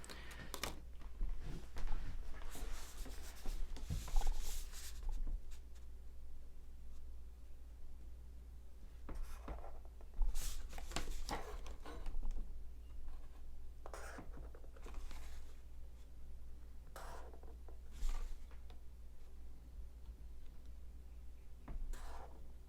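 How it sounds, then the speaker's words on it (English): A pencil scratches across paper while drawing a geometric construction for a decagram, with repeated short strokes and scrapes separated by quiet pauses, close and soft. "I'll do another construction with pencil so I can erase it, and I'll connect the edges"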